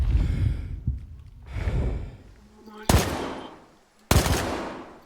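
A semi-automatic rifle in the shooter S.T.A.L.K.E.R. 2, using the same ammo as the Vintar rifles, fires two sharp, loud single shots a little over a second apart, after heavy breathing and sighs.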